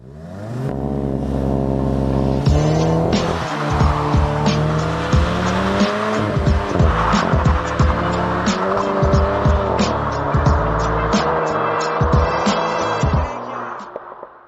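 A 2024 Ford Everest Platinum's V6 diesel engine revs hard and climbs through gears, with tires squealing in a rising, insistent launch close by.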